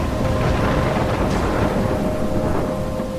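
Thunderstorm in the video game Life is Strange, a loud, continuous roar of heavy rain with deep rolling thunder rumbling underneath throughout, close and enveloping.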